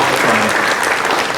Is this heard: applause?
yes